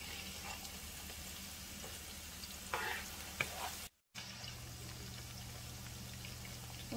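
Chopped onion frying in hot oil in a cooking pan, a steady broadband sizzle with brief louder bursts and a short dropout partway through, close and continuous with no talk.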